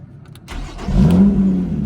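2018 Lotus Evora 400 with sport exhaust, valves closed, starter whirring briefly before the engine catches and flares into a loud, close rev, then settles into a steady idle.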